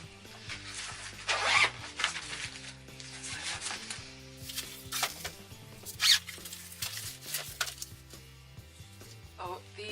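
Zippers drawn closed on fabric IKEA drawer organiser boxes in a nursery, several quick rasping zips at about 1.5 and 6 seconds, close up, over continuous background music.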